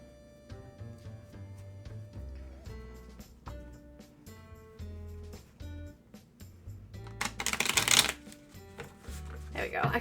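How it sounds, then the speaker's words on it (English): A deck of tarot cards is shuffled by hand in repeated soft, papery bursts, building to a louder flurry near the end, over a low, steady tonal background. "I can shuffle these ones so much better because my tiny hands, that actually fits with these cards"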